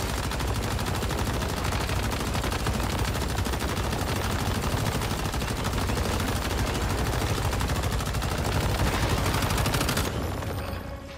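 Dense, nonstop rapid gunfire while shooting a boss in the survival shooter game Once Human, loud and continuous for several seconds before cutting off abruptly at the end.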